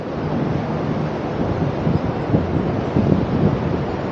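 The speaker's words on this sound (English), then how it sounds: "a narrow mountain valley, which creates a natural wind tunnel for the wind gusts to speed up" Strong wind gusts sweep through a narrow high mountain valley in Nepal on the Everest Three Passes trek, roaring and buffeting the microphone with a steady low rumble and no voices.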